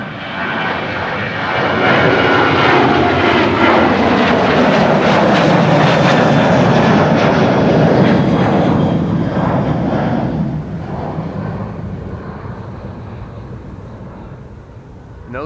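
A passenger jet bound for Gdansk in Poland takes off from Amsterdam Schiphol, its engine roar swelling loud and broad, holding strong, then fading as it climbs away.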